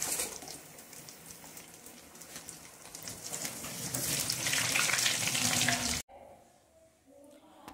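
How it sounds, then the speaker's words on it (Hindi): Steady hissing and crackling of potatoes frying in hot oil, building louder before cutting off abruptly, followed by quieter background noise. "तो मैं इसमें आलू डालती हूँ और सुनहरा होने तक हम आलूओं को तलेंगे।"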